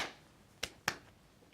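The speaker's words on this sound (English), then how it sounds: "Okay, I'll do a clap." Two sharp, quiet hand claps about a quarter second apart, crisp and dry, in an otherwise still room.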